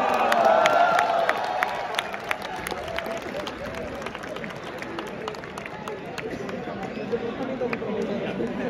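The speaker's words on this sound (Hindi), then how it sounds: "ह्यूज राउंड ऑफ अप्लॉज गया, तालियां बजाया है।" A campus audience at IIT Delhi claps and cheers as professors are invited on stage, a sustained wash of applause with whoops and chatter mixed in and a speaking voice over it.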